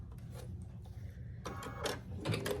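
A sewing machine joins a Grinch quilt block with right sides together, in a few quick stitching bursts against a quiet room.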